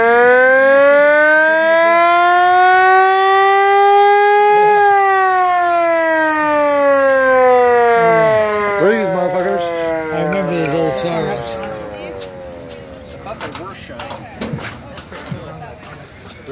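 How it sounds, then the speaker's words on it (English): A loud wailing police car siren rises and falls in long sweeps, then winds down and fades while clattering noises and background chatter take over. "And the next flick will turn the siren"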